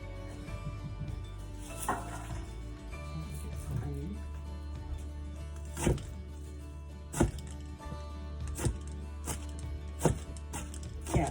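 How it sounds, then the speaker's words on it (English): Onions being chopped on a board, sharp knife thuds at irregular intervals, about one every second or so, close up over a low steady background hum. "next I'm going to chop up some onions"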